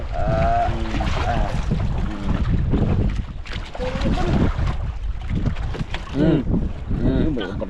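Big waves slosh and churn against a boat out on open water, a loud, continuous rush with wind buffeting the microphone while people shout and talk over it.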